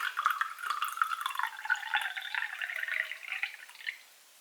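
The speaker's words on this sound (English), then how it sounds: "I tried to fill it with water." Water runs into a thrifted cup, a close splashy trickle with bright ringing overtones that keeps going for about four seconds and then stops. No one speaks.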